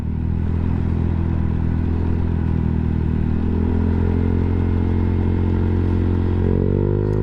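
A motorcycle is ridden on a race track, its engine a steady, moderately loud drone that shifts up in pitch near the end, with no talk.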